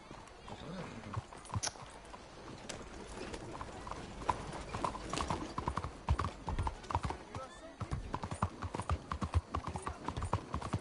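Horse hooves clip-clop steadily in Red Dead Redemption 2, a dense, continuous patter of hoofbeats with a neigh, under ongoing talk in Portuguese.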